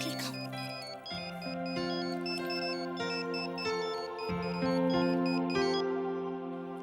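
A mobile phone ringtone plays indoors at home, a clear melodic electronic tune with bright repeating synthetic notes stepping through a pattern, fairly soft and steady with no talking over it.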